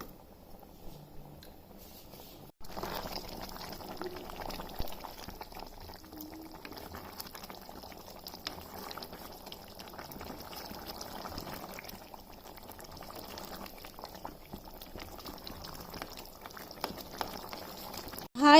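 Water heats in a pot for an Assamese fish curry, a soft steady bubbling and simmer that starts suddenly and continues, close and low-level with no speech.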